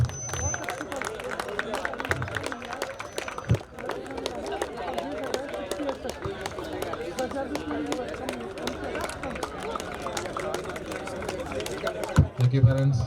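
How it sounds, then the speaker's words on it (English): A crowd at a children's football schools championship event applauds a team, with scattered clapping running under busy chatter and babble, and a loudspeaker voice talking over it. "Give them a big round of applause"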